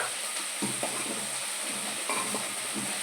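Gwar beans frying in a pan with onion and green chili: a steady close sizzle with occasional stirring scrapes and clinks, moderately quiet and free of talk.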